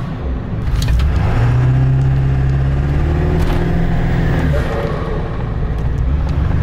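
A 7.3L Powerstroke diesel truck with a 10-inch exhaust and the tip removed, heard from inside the cab with windows up: a steady loud low rumble with a rising then falling turbo whistle riding above it.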